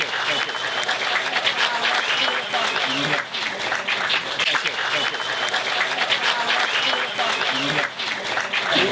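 A crowd at an outdoor community picnic gathering claps steadily, a dense sustained wash of applause running throughout with scattered voices mixed in.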